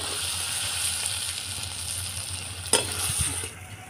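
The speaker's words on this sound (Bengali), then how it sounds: "কেটে রাখা আলুটা দিয়ে দেবো।" Cut potatoes go into a pan of jackfruit seed and prawn curry and are stirred, giving a soft sizzle with scraping spoon strokes and a brief clatter, heard close with no talk.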